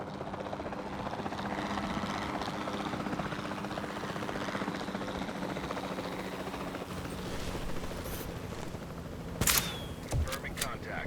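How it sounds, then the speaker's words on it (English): A capture team helicopter in Jurassic World Evolution 2 hovers with a constant close rotor drone, with a few sharp clicks and bursts near the end. "Then the sensible thing is to take a capture team helicopter."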